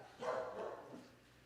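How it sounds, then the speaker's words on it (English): Dogs bark a few times at moderate distance indoors, a short burst of yapping that fades quickly over low room hum. "doggies are barking"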